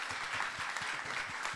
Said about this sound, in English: give everybody a round of applause for that